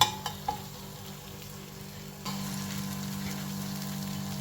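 Stevia-sweetened pumpkin halwa made with pure ghee warms on a griddle with a low, steady sizzle. A few light clicks come first, then the sizzle turns fuller and continues evenly to the end.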